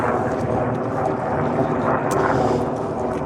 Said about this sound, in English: some Defence Force helicopter upstairs, up above me.